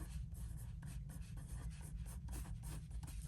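Pen writing on the paper outside cover of a handmade Z fold craft folio, a close, faint, continuous scratching with quick rhythmic strokes, no voice.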